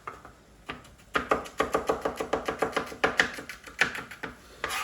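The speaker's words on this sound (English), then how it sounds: "all we want to do with the garlic is once again just chop that down and then chop it up nice and slowly" Garlic being chopped with a knife on a cutting board: a steady run of close, crisp blade taps, evenly paced, after a few sparse opening strikes.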